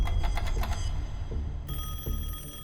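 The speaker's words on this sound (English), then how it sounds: "and then the phone rings." A telephone bell rings in rapid repeated bursts, close and clear, then gives way to a steady electronic tone with a few faint knocks.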